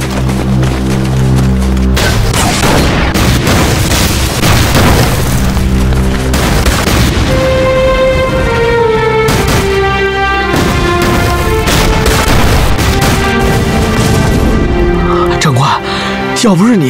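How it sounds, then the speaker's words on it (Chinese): Artillery cannon fire and explosions in a war film set in a river ambush against Japanese troops, heavy booms rolling one after another under a loud continuous score, with voices talking over it. "咱们什么时候有这么多大炮，炸死那帮小鬼子？"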